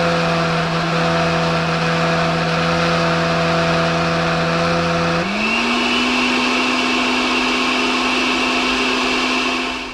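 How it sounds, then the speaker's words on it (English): A blender on high speed purees sweet corn, its motor whining loudly and steadily, with the pitch rising and settling partway through; no talking. "And blend away."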